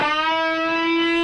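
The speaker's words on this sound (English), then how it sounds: "If you set the delay time for less than 30 milliseconds and crank up the feedback, you get an effect called tubing" A resonant, hollow metallic ringing tone with dense stacked overtones, steady and sustained like sound through a long tube, from a delay under 30 milliseconds with high feedback on a modular synth.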